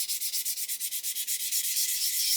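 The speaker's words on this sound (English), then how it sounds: "Now you can see here I'm sanding" Sandpaper rubs against a part from an Airfix 1/72 Lancaster B.III Dambuster plastic model kit in quick, steady back-and-forth strokes, a close, dry scratching rasp repeating about six times a second with no voices.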